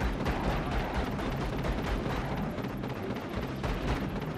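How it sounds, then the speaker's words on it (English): Dense, continuous rapid gunfire and blasts roar from the Contra machine gun in the game Vicious Attack Llama Apocalypse, a loud unbroken barrage of shots and explosions. "it's the Contra machine gun, and it's blowing up like Contra"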